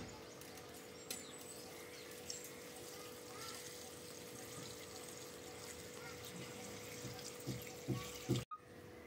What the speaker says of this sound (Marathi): आता आपण त्याच्यावरचं हे पाणी काढून घेऊ